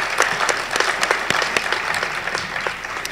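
Audience applause for sports hall of fame inductees at an induction event: a full room clapping steadily throughout, loud and close, with distinct sharp claps standing out from the crowd.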